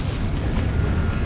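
A Confringo explosion spell from the game Hogwarts Legacy erupts as a loud, low, rumbling blast that keeps roaring for the whole moment, with no voices over it.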